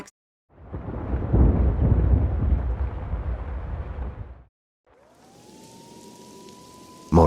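A deep, rumbling roar fills the first several seconds of a Max Payne 2 cutscene. After a brief silence, a police siren tone rises and then holds steady at moderate volume, ending with a sudden loud burst.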